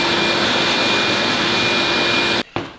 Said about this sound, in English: Just follow yourself around with the vacuum.